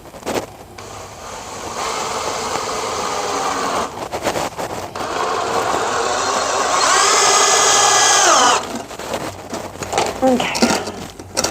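A power drill driving screws into a board during a toilet repair, whining steadily for several seconds, then rising in pitch as it bites, before stopping with some clatter.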